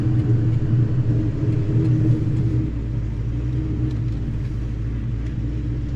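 A 2003 Ford Terminator Cobra driving through downtown streets, a steady deep rumbling engine drone, heard from inside the car, that eases slightly partway through.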